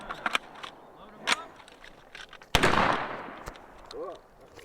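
On an outdoor shooting range, a 12 gauge shotgun fires several sharp shots at uneven intervals. One louder blast rings out with a long echoing tail, and a voice speaks briefly in between.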